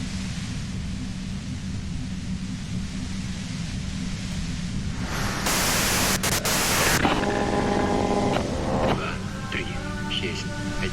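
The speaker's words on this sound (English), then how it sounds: "you can do it through the white noise." Radio white-noise static in the video game Disco Elysium: a steady hiss throughout that swells into a louder burst midway, with voices coming through toward the end.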